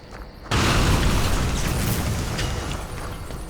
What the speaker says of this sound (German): Oh Baby, es rumst gleich.